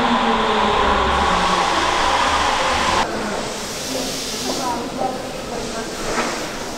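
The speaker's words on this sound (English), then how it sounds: "Train is leaving." A train pulls away from a station in Sapporo, Japan, with a steady rumbling roll and hiss, loud at first and then easing, with faint chatter in the background.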